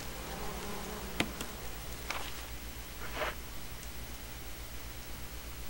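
Bees buzzing in the survival-horror game Resident Evil REmake: a steady insect drone fills the scene beneath a constant background hum, with a few sharp clicks and brief swells along the way.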